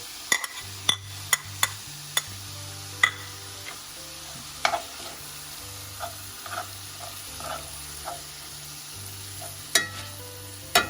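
Garlic frying in a pan for Malagasy samosa filling, a steady soft sizzle under repeated sharp clicks and scrapes of a utensil stirring against the pan.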